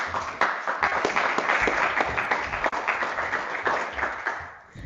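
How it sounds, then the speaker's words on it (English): Audience applause at a space technology alumni symposium: dense, steady clapping from a crowd that holds for several seconds, then thins and fades at the end. "So you can give her a big round of applause."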